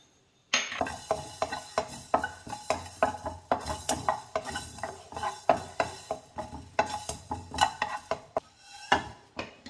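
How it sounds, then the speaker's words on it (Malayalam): Mustard seeds dry roasting in a pan for mango pickle rattle and skitter as they are stirred, a rapid series of sharp, bright scrapes and clinks running steadily after a brief quiet start. "ആദ്യം നമുക്ക് കടുക് ഒന്ന് ചൂടാക്കി മാറ്റണം."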